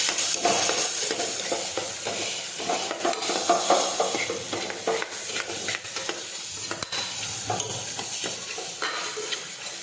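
A steady hiss of cumin, sugar and salt frying runs throughout, punctuated by the scrape and clink of a spoon stirring in a pan. No voices.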